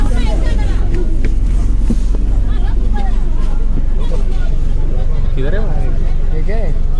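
A crowded bus stand on the way to Tirupati, with a loud rumbling bus engine and dense chattering crowd around, someone talking over the din throughout.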